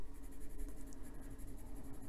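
Colored pencil scratches rapidly across paper, shading leaves of a drawing in quick, even back-and-forth strokes, close and continuous with no voices.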